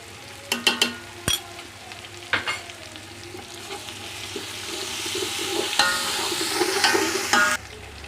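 Green chili paste frying in a pan, with sharp stirring clacks early and then a rising, steady close sizzle, no talking.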